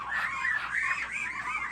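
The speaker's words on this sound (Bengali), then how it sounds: "এই যে অনেকগুলো চীনা হাঁস আছে।" Chinese geese honking in a flock, their nasal calls repeating in overlapping bursts at a steady, fairly loud level throughout, with no talking.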